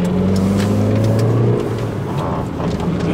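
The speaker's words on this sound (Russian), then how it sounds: "Давайте сейчас вот напрямую чуть разгонимся на нем." A 2007 Hyundai Accent engine revs up and accelerates, its pitch climbing steadily, then eases off; loud and close, with no one talking.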